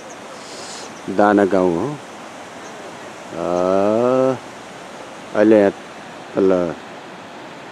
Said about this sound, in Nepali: यो तल अहिले दानेगाउँको डोरी खोलाको ठुलो खोल्छा हो